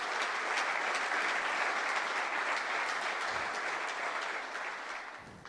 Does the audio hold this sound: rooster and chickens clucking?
no